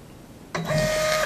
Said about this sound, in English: This is the faster Epson TMT88-5. It prints at about 12 inches per second.